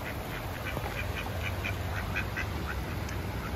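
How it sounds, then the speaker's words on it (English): A mallard duck quacks in a short series of repeated calls beside water in Idaho, moderately near and steady, over a constant background hiss. "What's up, Mallard?"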